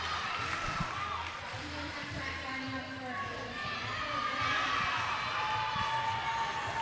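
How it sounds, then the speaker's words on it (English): Crowd at a roller derby bout cheering and shouting in a large hall, a continuous loud roar of voices that swells toward the end, mixed with an announcer and skating rumble. "And this crowd goes wild."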